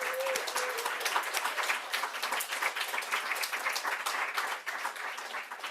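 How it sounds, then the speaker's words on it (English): Steady round of applause from a university class after student presentations on clean technology exports, dense clapping that holds evenly throughout without talk. "I think uh, the class deserves a round of applause for a great job"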